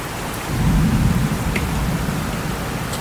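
A violent summer thunderstorm in Gironde, France, with steady heavy rain hiss and a low rolling thunder rumble swelling in after a moment, then a weakening storm continuing as dense broadband noise, no voices.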